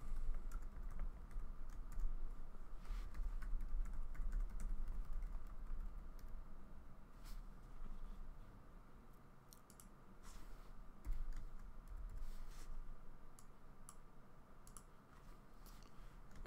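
HTML code typed on a computer keyboard gives quiet, rapid irregular key clicks with brief pauses, close up over a low room hum, with no talking.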